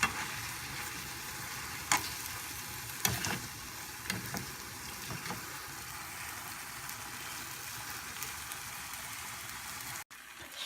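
Chapagetti noodles are stirred and mixed in a hot pan, giving a steady, dense sizzle with occasional scraping clicks from the utensil, close and without any talk.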